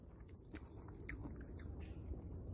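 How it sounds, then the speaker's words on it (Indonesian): Someone bites and chews crunchy cooked squid outdoors in a mangrove forest, with faint, close crackling crunches in a quiet setting. "Kalau digigit seperti ini nih. Renyah."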